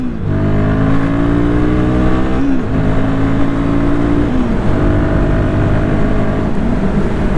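Royal Enfield Guerrilla 450 motorcycle under full throttle, the engine note climbing steadily through the gears with brief dips at each shift, loud and continuous, with wind rush behind it.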